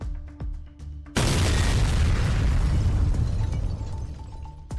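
A Russian D-20 howitzer hidden among trees in Sumy region is blown up by Ukrainian border guards: after a few faint pops, a single heavy explosion roars and rumbles on for several seconds, loud and distant-sounding.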